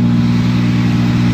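A car engine with a freshly rebuilt motor holds a steady, loud rev for the whole stretch, its low hum strong and constant with no voices over it.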